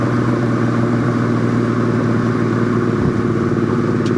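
A restored 1969 Plymouth GTX idles close by, a deep, steady throaty exhaust rumble with a slightly lumpy rhythm and no voices.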